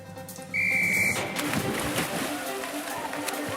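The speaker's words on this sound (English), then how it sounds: "Wait for the whistle." A sharp whistle blast sounds briefly, then a crowd cheers and splashing, running activity follows.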